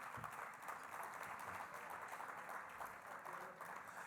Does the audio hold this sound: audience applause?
yes